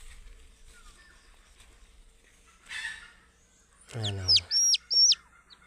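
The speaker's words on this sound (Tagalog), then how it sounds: "Yan, sisiw ng labuyo." Red junglefowl chicks in the wild give a few sharp, high chirps near the end after a brief rustle, with someone speaking briefly over them; otherwise quiet outdoors.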